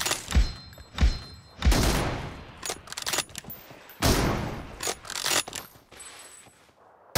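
Bursts of video game gunfire from an M24 sniper rifle crack out in an uneven sequence of sharp, loud shots and thuds, interspersed with mechanical clicks, with no one talking.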